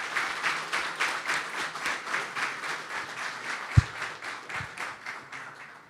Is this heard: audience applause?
yes